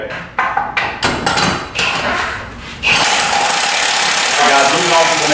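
Impact driver firing in short bursts, then a long sustained run, driving bolts into a Jeep JK body-mounted tire carrier; loud and close, with no talking.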